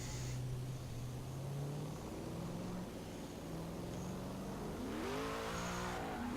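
A drift car at the Midway Madness night qualifying holds a steady, loud engine drone, then its revs climb sharply near the end as it accelerates into the run.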